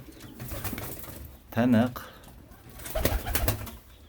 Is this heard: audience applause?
no